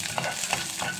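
Fenugreek seeds and urad dal fry in a little oil in a pan, giving a steady soft sizzle broken by a few stirring scrapes, close and fairly quiet.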